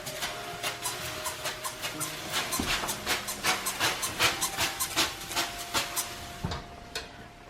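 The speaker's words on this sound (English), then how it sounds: "to add more steam, I'm going to spray each side 10 times" Water spritzed into a hot home oven over baguettes, a steady run of about twenty short hissing bursts, close and even in rhythm, with a faint constant hum underneath.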